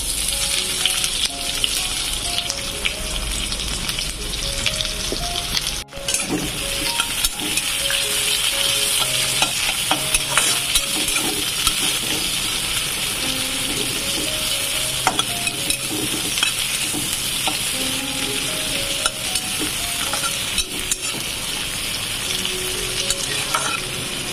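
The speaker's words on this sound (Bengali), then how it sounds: "এটা লাল লাল করে ভাজা হয়ে যাক" Chopped onions fry in hot oil with bay leaf, cumin and green chilli, a loud, close, continuous sizzle broken by frequent scraping clicks of stirring and no voices.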